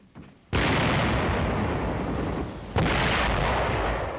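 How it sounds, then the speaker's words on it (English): Artillery fire on an enemy pillbox at a city's east gate in WWII combat footage: two heavy blasts, the second arriving about two seconds after the first, each leaving a long, loud rumbling roar with no voices. "Opening fire on an enemy pillbox at the city's east gate."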